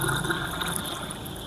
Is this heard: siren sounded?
no